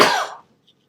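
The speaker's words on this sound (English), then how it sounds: "pardon the coughing" A person gives a sharp, loud cough that trails off within half a second, followed by near silence and a faint brief click.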